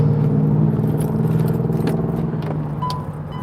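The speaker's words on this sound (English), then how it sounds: "while I unlock my vehicle" Keys jangle and rattle continuously at close range while a vehicle is being unlocked, a steady metallic clinking over a low hum, with a few brighter clinks near the end.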